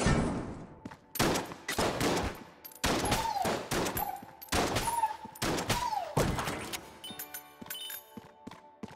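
Rapid bursts of gunfire from a gun in the video game Enter the Gungeon, several loud clusters of sharp shots with brief pauses between them and short whooping tones over some volleys.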